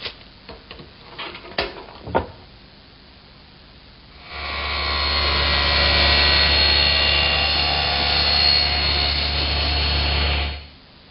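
Power saw cross-cutting a large piece of wood to length in a woodworking shop, a few clunks and knocks of handling first, then a loud steady whining roar for about six seconds before spinning down.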